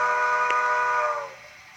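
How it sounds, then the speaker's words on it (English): A steady, tinny horn tone from a Bachmann model locomotive's sound decoder speaker sounds for just over a second, then cuts off, leaving a faint hum. "Horn."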